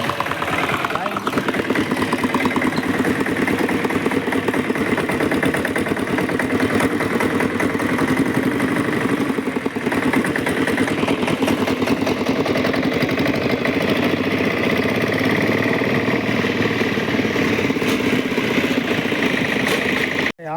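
Tractor engine running steadily up close for about twenty seconds, a continuous loud, rough mid-range rumble with a faint knock, and voices partly buried beneath it.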